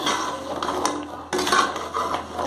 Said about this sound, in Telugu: అన్ని గవ్వలకి మంచిగా పాకం పట్టేలాగా మిక్స్ చేసుకోవాలి